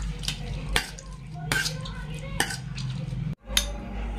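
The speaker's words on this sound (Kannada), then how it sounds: "ಈಗ ಇದನ್ನು ಪೂರ್ತಿನಿ ಮ್ಯಾಶಲ್ಲಿಂದ ಮ್ಯಾಶ್ ಮಾಡ್ಕೊಂಬಿಡೋಣ" A masher works through boiled potatoes in a metal pot, giving a series of dull, irregular thumps and scraping knocks with occasional metallic clinks, close by in a home kitchen.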